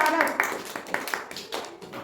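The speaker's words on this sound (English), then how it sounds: "Clap for Arab" A class of pupils claps for a classmate during an alphabet lesson, scattered handclaps popping out one after another while voices carry along under them.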